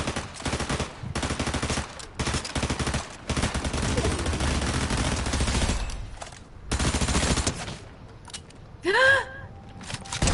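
Fortnite gunfire comes as dense rapid bursts of automatic shots, loud and sustained for several seconds, then breaking into sparser volleys with a short gasp-like sound near the end.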